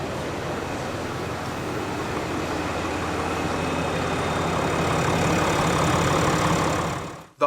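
A 2022 Cummins diesel pickup truck with a remanufactured engine idles steadily, its exhaust giving a constant low rumble close by, before a sharp knock at the very end.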